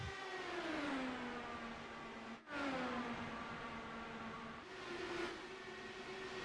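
A race car engine in a racing game at a Kentucky track, a steady high drone that climbs in pitch, cuts out briefly at a gear change and then revs up again, with no talking.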